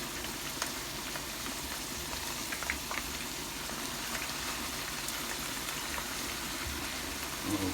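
Potatoes for beef afritada sauté in a pan, giving off a steady, even sizzle with faint crackles throughout and no talking.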